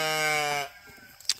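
A goat on a farm lets out a loud, drawn-out bleat at close range, followed by a few soft shuffling sounds and a faint click.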